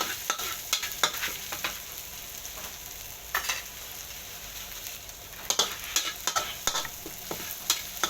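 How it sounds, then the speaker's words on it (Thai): Dried chilies and garlic stir-fry in a hot pan for a pork kaprao dish, giving a steady sizzle broken by repeated sharp spatula scrapes and clacks, close and fairly loud, with no voices. "เราจะผัดพริกแห้งเป็นหลักนะฮะ"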